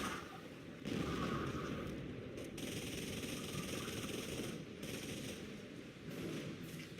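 Rapid machine-gun fire and shelling from a Company of Heroes 4v4 World War II battle, a dense continuous rattle with heavier bursts, steady and loud throughout.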